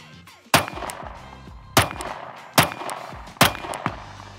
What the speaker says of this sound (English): let's just keep shooting